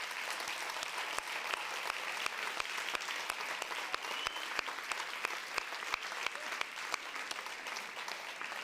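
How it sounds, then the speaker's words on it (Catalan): Audience applause for the winners of the 10th Mans Unides short clip-film contest at its final awards event: dense, steady clapping from a crowd, sustained and even throughout, with no voices over it. "Un fort aplaudiment per tots i totes."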